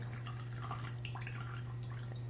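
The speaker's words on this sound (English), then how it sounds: "We're gonna pour off the excess water there" Excess water is poured off hydrated cherries in a kitchen, a faint, soft trickle and patter of drips over a steady low electrical hum.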